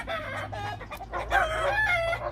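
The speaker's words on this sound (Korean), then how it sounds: "아 저 닭소리" A rooster crows loudly and close by outdoors, one drawn-out cock-a-doodle-doo with clucking layered in, heard alone without speech.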